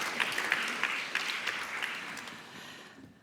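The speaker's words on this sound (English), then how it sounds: "Again, a round of applause, please" Audience clapping after a panel discussion on global health, a moderate round of applause with a few sharper claps, gradually fading out.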